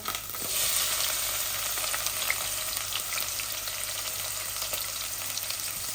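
Onions frying in a sour fish dish made with pangas fish, a continuous bright sizzle with faint stirring, steady and close throughout.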